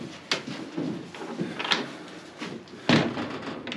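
A horse stall door in a barn is pulled and shut, giving a few rattling thuds and a solid knock of the door closing near the microphone, with no talk.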